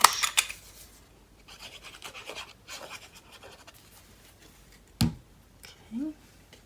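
Wood pieces get their corners rounded to a quarter inch with a few soft, rasping scrapes in short bursts and a sharp knock partway through, close by in a quiet workshop.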